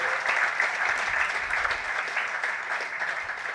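Crowd applause at a national agriculture and fisheries awards ceremony, a sustained, even roar of many people clapping for the awardees, full and continuous with no voices on top.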